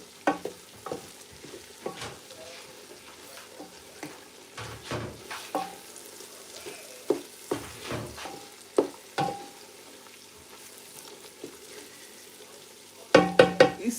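Soft frying sizzle of egusi runs underneath while a spoon scrapes and stirs in a pot with scattered clinks, ending in a few louder knocks.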